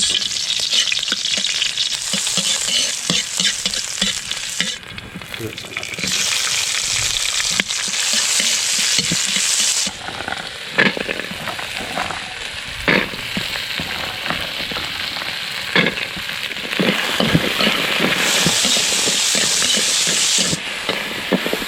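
Onions fry loudly in a pan over an outdoor fire, a dense, continuous sizzle and crackle with frequent stirring scrapes and brief dips in intensity, close and without talk.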